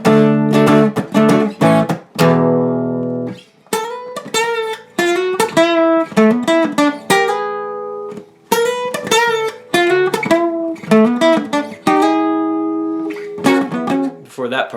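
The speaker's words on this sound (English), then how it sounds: "There's a lead line you can opt to play that happens right before the instrumental part." An electric guitar plays the lead line from a song, a quick run of picked single notes and ringing bends with brief pauses between phrases, clear and close with no talking.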